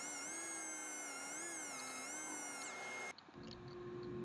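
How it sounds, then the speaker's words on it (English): A lathe spins a walnut turning with copper pipe and mussel shell inlays as it is sanded, giving a steady loud whine and hum that cuts out abruptly near the end. "So we're sanding it back the second time"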